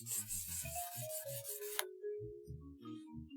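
A shamisen bachi is sanded with 320-grit sandpaper in quick rasping strokes for under two seconds, followed by faint tonal sounds.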